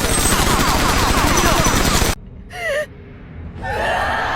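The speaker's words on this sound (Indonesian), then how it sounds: "Hingga akhirnya Kaisar Goti pun menembak Chloe dan memerintahkan para penjaganya juga untuk menembak Chloe" Guards fire guns in a film scene: a loud, dense burst of rapid gunfire lasts about two seconds and cuts off abruptly, followed by a gasp and a groaning cry.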